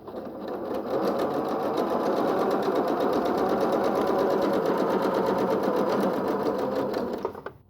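A sewing machine fitted with twin needles and a pintuck foot stitches pintucks with high tension, a fast steady mechanical whirr running for about six seconds before stopping.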